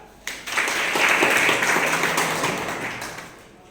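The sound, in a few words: audience clapping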